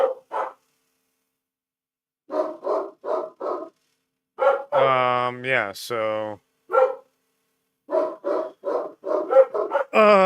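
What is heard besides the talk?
dogs barking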